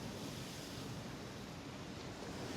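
Sea waves lap and bang against the Blackpool seafront on a wet afternoon, a steady soft wash of surf with some wind noise, fairly faint and continuous, with no talking.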